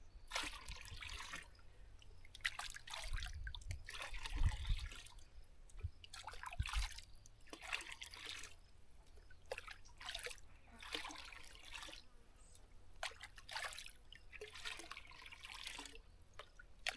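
Diluted green liquid fertilizer trickles and splashes into a container in uneven bursts that stop and start, fairly quiet and close, with no voices.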